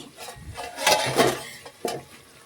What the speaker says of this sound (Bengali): এইভাবে কষাতে কষাতে শুকিয়ে নিচ্ছি কড়াইয়ের মধ্যে